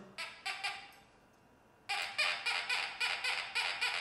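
A metal detector on its low tone emits repeated nasal, quacking electronic pulses, a few at first, then a faster regular series after a short pause.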